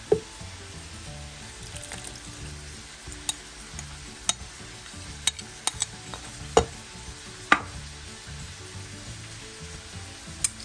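Tomatoes sizzle steadily in a pan for an Indian arvi gosht curry, with scattered sharp clicks and taps from a spoon stirring against the pan over the frying hiss.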